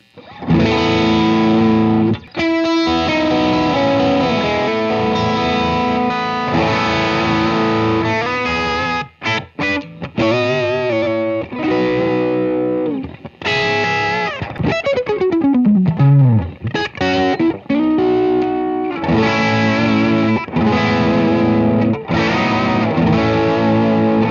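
An electric guitar plays through a distortion pedal on a travel pedalboard, with loud, saturated sustained chords, quick stops and a descending slide, with no talking.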